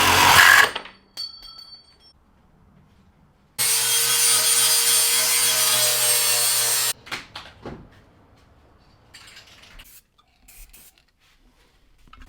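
A power cutting tool slices off a bracket on a Silverado truck during salvage repair. After a few clatters, a loud steady whine with a buzzing grind lasts about three seconds, followed by scattered knocks and handling noises.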